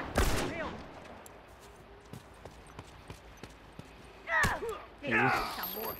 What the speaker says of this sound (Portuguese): Já dei dois tiros.